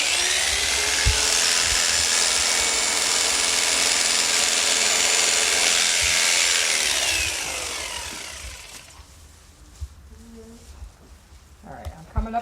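Electric shears fitted with a comb run as an alpaca's fleece is shorn, giving a loud, steady, close buzzing drone for about eight seconds before cutting out into quieter handling sounds.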